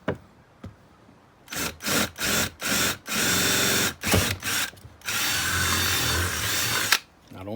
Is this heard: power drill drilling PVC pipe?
yes